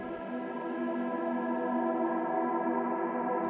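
A sustained, buzzy distorted tone with rich harmonics, held steadily for a few seconds with no talking.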